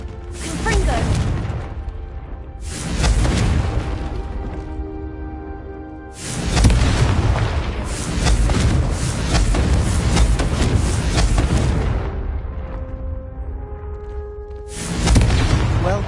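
Confringo spell explosions in Hogwarts Legacy, a series of heavy booming blasts with whooshes and crashing debris separated by brief lulls, under game music and occasional talk.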